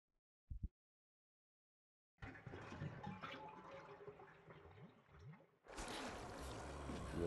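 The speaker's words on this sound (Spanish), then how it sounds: "Está lleno de agua sucia. Quito el tapón" In a bathroom in the Resident Evil HD Remaster game, dirty water drains from a basin after the plug is pulled: a brief click, then gurgling runoff that swells into a louder rushing flow.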